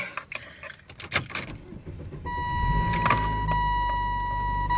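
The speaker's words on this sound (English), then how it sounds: "just about to start the car here real quick" A car being started, with keys jangling in the ignition and a few clicks before the engine catches and settles into a steady, close idle hum with a faint whine, no talking.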